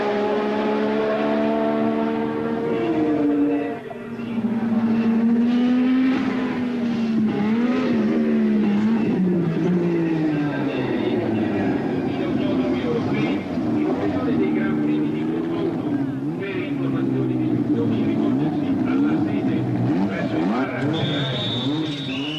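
A turbocharged Formula 1 car races a quick qualifying lap, its loud engine note rising and falling through gear changes and corners, close and continuous, with faint talk in the background.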